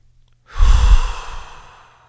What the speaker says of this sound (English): Take a deep breath in. Rapidly blow it out